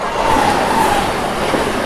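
Shaheed Express passenger train running past a station platform, a steady loud rumble with a faint whining tone near the start, continuous and close throughout.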